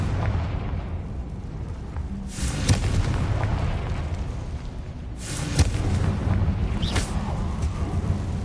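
Confringo blasting spells exploding in the video game Hogwarts Legacy: two loud booming blasts a few seconds apart, each with a sharp crack and rumbling tail, followed by a smaller burst, over a constant background hiss.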